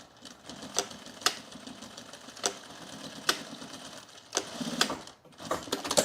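A sewing machine stitches along the yoke of men's jeans in short, close bursts, with sharp clicking, ticking starts and stops between quieter pauses.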